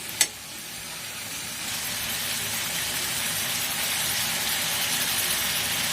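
Steady broad hiss of ingredients sizzling in hot oil, rising after a brief sharp click at the start and holding even and loud to the end, with no voices.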